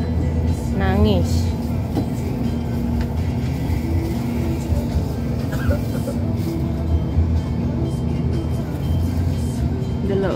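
A bus at Magelang bus terminal, its engine rumbling steadily amid terminal traffic noise, with a voice and adult talk heard over the din and a brief horn-like tone early on.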